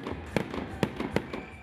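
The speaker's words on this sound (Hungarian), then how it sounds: "Hangos és látványos tűzijátékkal ünnepelték a 2017-es esztendő eljövetelét Székesfehérváron." Fireworks exploding at a New Year's Eve celebration in Székesfehérvár marking the arrival of 2017: five or six sharp, loud bangs in quick irregular succession over a constant crackling rumble.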